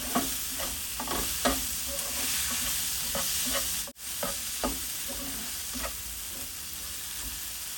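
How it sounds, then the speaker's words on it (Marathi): Finely chopped tomato sautéed with spices in a pan for drumstick bhaji: continuous loud sizzling with repeated clacks of a spatula stirring, a brief drop-out midway, and no speech. "एक मोठा टोमॅटो घेतला होता मी, तो बारीक चिरून घेतलाय, तो आपण यात घालूया आणि हा सुद्धा आपण छान परतून घेणार आहोत"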